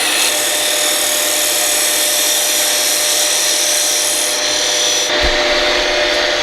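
A wood lathe spins a table lamp shaft as a gouge cuts into the wood, giving a steady, loud, grinding whir that holds constant before a brief bump and shift in tone near the end.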